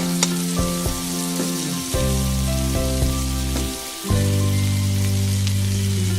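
Toy kitchen playset stove playing an electronic cooking sizzle, a steady synthetic frying hiss layered with tonal beeps and hums, near and fairly loud, shifting in pitch a couple of times.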